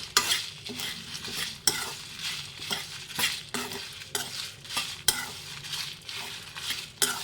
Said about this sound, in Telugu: ఇలాగా ఎండుమిర్చి ఏగే వరకు వేపాలి